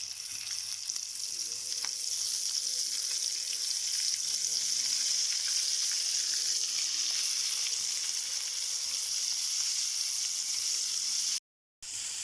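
Flour-coated fish fries in a pan of hot oil, giving a steady, dense sizzle that holds evenly for about eleven seconds and then cuts out briefly near the end.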